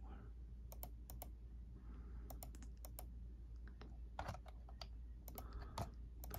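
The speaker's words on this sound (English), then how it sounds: "Typing with keyboard." Keys clacking on a computer keyboard in irregular bursts of quick taps with pauses between, fairly close over a steady low background hum; no talking.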